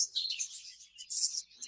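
Baby exhibition budgerigars chirp in an aviary, a close cluster of high, rapid tweets and twittering bursts with brief gaps between them.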